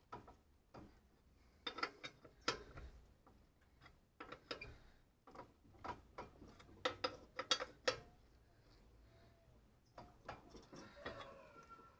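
Lug wrench clicking and ratcheting as wheel nuts are hand-tightened on a 2013 Renault Sandero spare tire, a quiet series of close metallic ticks and clanks spread irregularly across the clip.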